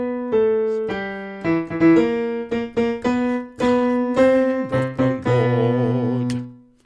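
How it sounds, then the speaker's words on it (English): Piano plays the bass vocal line from Mendelssohn's Elijah in octaves during a choir bass-section rehearsal: a steady sequence of sustained low notes with clear gaps between phrases, alone and fairly close. "Listen to it just on the piano."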